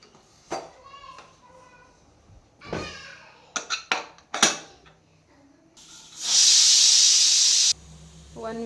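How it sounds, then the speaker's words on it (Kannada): A pressure cooker whistles while cooking potato and tomato pulav, releasing a loud, steady hiss of steam that lasts under two seconds. Some kitchen clatter and clicks come before it, and a low hum follows. "1 ವಿಷಲ್ ಕೂಗಿದೆ."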